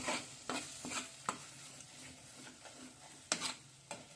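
Mutton being sautéed in a pan, a soft sizzle under intermittent scraping and knocking of a stirring spoon, irregular sharp taps standing out against the quiet frying, with no talk.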